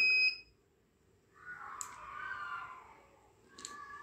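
An Arduino Nano dam gate system sounds a quiet electronic buzzer in short beeps, with a soft hiss in between and another beep near the end, heard faintly and close by.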